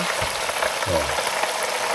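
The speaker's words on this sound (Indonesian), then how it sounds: "ini sekarang ayamnya lagi digoreng" Chicken pieces fry in hot oil with a steady, close sizzling hiss, alone and without talk.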